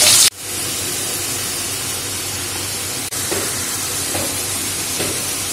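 Diced potatoes frying in a pan of hot oil give a loud, steady hiss that runs unbroken after a brief pause near the start, with no voices over it.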